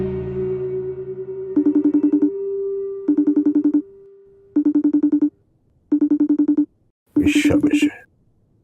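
A phone rings with an incoming video call, a loud, close electronic ringtone in five or six repeated pulsing bursts with short gaps between them, and a voice breaks in over the final burst.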